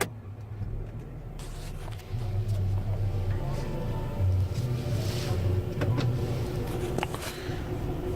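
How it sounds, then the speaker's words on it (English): A Mercedes GLC starts with a brake press and a flick of the key: the engine catches about two seconds in and settles into a smooth, steady idle rumble heard from inside the car. "to start it, just simply step on the brake and flick the key"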